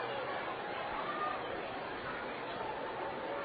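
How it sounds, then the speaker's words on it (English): Raucous crowd at a Cedar Rapids Kernels minor league baseball game, a steady dense murmur of chatter and hubbub filling the stadium throughout, with no distinct chant standing out. "as you can hear the raucous crowd saying, "Charge!""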